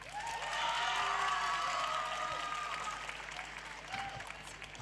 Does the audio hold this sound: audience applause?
yes